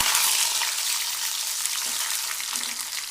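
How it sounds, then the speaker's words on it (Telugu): Mustard seeds and other tempering spices crackle with crushed garlic cloves dropped into hot oil while tomato rasam is being cooked, giving a steady close sizzle of dense crackling throughout, with no talking. "పోపు దినుసులు కొంచెం చిటపటాడిన తర్వాత ఇలా చిదిమి పెట్టుకున్న వెల్లుల్లి రెమ్మలు వేసుకోవాలి."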